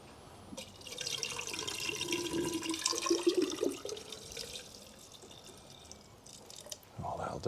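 Water trickling and pouring into the reservoir of a 2016 Fiat 500X during under-bonnet checks, a steady splashing flow that swells for a few seconds and then fades, with a brief thump near the end.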